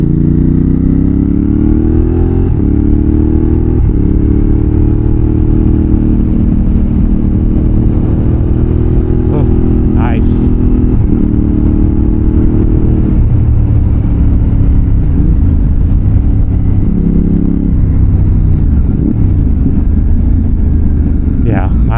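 An X-Cape 1200 adventure motorcycle ridden on the road, its engine droning loudly and steadily with gear changes and shifts in revs, heard close up under wind noise.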